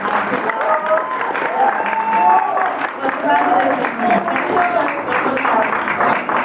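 An event audience applauds in a continuous wash of clapping with cheering and voices mixed in, loud and sustained across the whole stretch.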